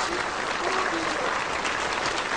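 Dense applause from a gathered crowd sends people off at a Tatar-speaking event, a steady wash of clapping lasting a couple of seconds with no voices over it.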